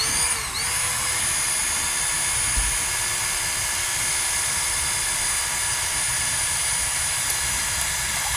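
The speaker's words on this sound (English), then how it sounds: "Mike, could you just cut the top off of this, please?" A power tool cuts through the top of a vented, cooled-down container after a BLEVE test, giving a steady, loud whining drone with harsh broadband grinding that holds nearly unbroken throughout.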